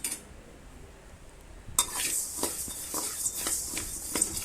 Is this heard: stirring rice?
yes